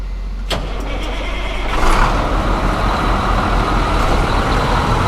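A pickup truck engine is started, catching and rising after a couple of seconds into a steady loud rumbling idle, close by, with no talking.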